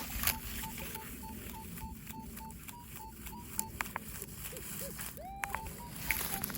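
A metal detector sweeps a chalky field, giving a steady repeating beep tone with a few rising and warbling signal sounds, over soft background rustle.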